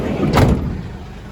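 The door of a Mercedes Sprinter van thuds shut once, a short muffled slam mid-clip over steady outdoor background noise.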